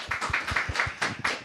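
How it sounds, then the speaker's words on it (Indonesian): An audience applauding at a panel event, a brief patter of clapping hands with a steady, moderately loud rhythm and no voices over it. "Boleh kasih tepuk tangan?"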